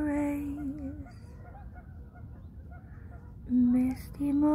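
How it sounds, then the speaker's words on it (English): Geese honk repeatedly over a misty river at morning, loud nasal calls in bursts with quieter calls between, with no talk. "I can hear the geese"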